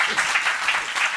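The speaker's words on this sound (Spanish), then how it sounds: "Un aplauso." An audience at a talk about the Port of Chancay breaks into steady, close applause, dense clapping filling the whole short stretch without pause.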